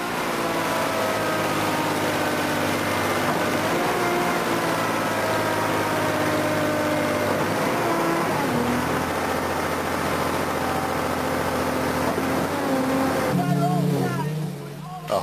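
A concrete delivery truck and concrete pump run at a tower construction site, giving a loud, steady engine drone with shifting harmonic tones that changes pitch near the end, heard under a voice.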